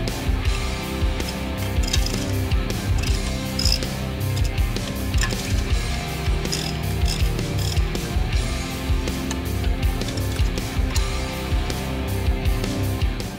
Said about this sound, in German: Als nächstes lösen wir die Schrauben von dem Zündkerzenfangschutz.